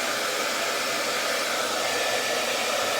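A hair dryer blows steadily at close range, a loud continuous whoosh with no breaks and no talking.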